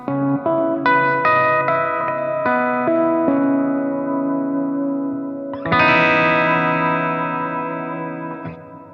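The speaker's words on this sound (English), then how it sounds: "plucking the harmonic seamlessly while kind of playing through an arpeggiated chord" Bell-like guitar harmonics ring out one after another over a sustained, effected chord, with a fresh strum midway and a long shimmering decay.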